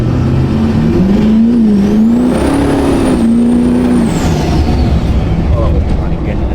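A 1000hp Duramax diesel truck launches hard with tires briefly spinning, a loud rising engine roar and whine that builds then fades as it pulls away, with voices talking over it.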